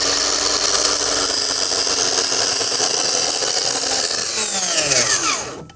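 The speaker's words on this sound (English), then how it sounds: "So our final cut is on the AZEK PVC. I'm gonna go ahead and just cut straight across first." A saw blade cuts straight across an AZEK PVC deck board, a loud sustained power-saw whine that holds steady and then spins down as the cut ends.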